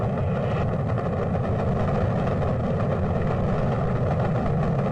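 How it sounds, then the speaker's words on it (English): Apollo 11 rocket engines roar at launch as a dense, continuous low rumble that stays loud and steady throughout, with no voices over it. "2, 1, 0, all engine running."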